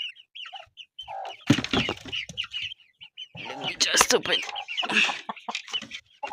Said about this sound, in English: this chicken, this hen has started laying eggs